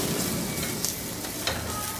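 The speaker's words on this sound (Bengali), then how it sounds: "এখন এটাকে একটু ভেজে নিব, রসুনগুলো একটু ফ্লেভার ছাড়া এবং বাদামি হওয়া পর্যন্ত।" Garlic and red chillies frying in a little oil for a chicken and vegetable dish, a steady close sizzle running the whole time with a few brief crackles and stirring scrapes.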